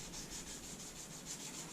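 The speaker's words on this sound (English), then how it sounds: "What's happening is I'm sanding like this" Steady hand-sanding of a wooden knife handle, a quiet, continuous abrasive rubbing with a gentle back-and-forth pulse, heard up close and alone.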